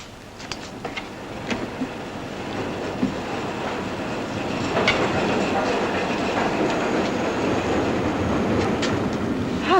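A train pulls into a station platform with clattering wheels over rail joints, faint and sparse at first, then swelling into a denser, louder rumble as it draws near. No one speaks.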